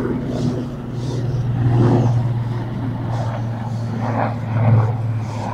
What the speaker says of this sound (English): Sorry about the noise. Very low flying, literally over.